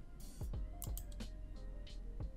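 Several quick clicks and taps on a computer keyboard as a command is typed in AutoCAD, faint and close with soft background hiss.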